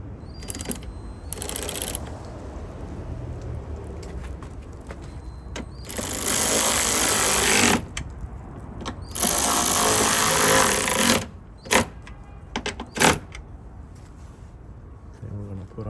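A power tool drives screws on a 2013-2018 BMW 328i taillight bulb holder, several short bursts of whirring and rattling, with someone talking between them.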